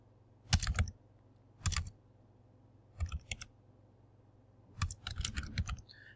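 Code is typed on a computer keyboard in quick bursts of close, crisp key clicks, four separate runs with short pauses between them over a faint steady hum.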